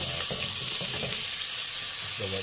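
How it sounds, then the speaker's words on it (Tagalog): Chicken skin sizzles steadily in hot oil as it renders fat, a dense crackling hiss at moderate volume, with a few faint clatters of the pan or spoon and no talking. "ginagawa ko mantika yung mga balat niya"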